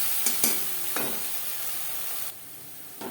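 A paste of tomato, ginger and green chili fries and is stirred in a pan, a close steady sizzle with a few scraping spoon strokes that drops off abruptly near the end, no voices.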